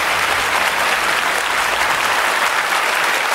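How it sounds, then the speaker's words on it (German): A television studio audience at a German game show gives loud, steady applause, a thick continuous roar of many clapping hands with no talking over it. "Applaus alle Freunde zu Hause."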